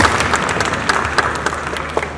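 Applause from a concert audience at a birthday celebration, a steady wash of many hands clapping with crisp individual claps poking out, loud and continuous throughout.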